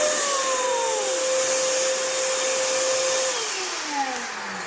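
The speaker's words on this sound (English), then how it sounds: "And you see that it makes quite a lot of snow in a short amount of time." An electric snow machine in a home photo studio runs with a steady, loud whirring drone and a high whine that dips in pitch near the end, with no talk.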